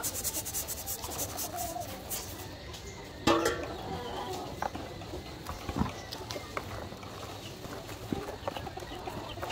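Cattle concentrate feed is mixed by hand with corn for chickens, giving steady gritty rubbing and scraping with occasional sharper scoops and knocks, close and fairly quiet, with faint birds in the background.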